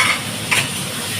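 Papaya pieces dropped into hot oil with moong dal in a home kitchen, a steady, close hiss of frying with a brief stir or clink midway.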